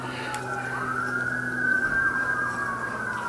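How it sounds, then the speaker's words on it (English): A wailing emergency siren sounds steadily at moderate distance, its pitch sliding and holding over a low engine-like hum. "now we have sirens too"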